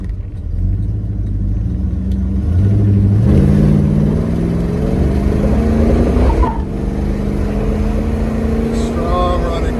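A 1970 Ford Torino Cobra with a 429 Super Cobra Jet Drag Pack V8 runs close by, a loud, steady rumbling idle that rises as the engine revs briefly, with people talking over it.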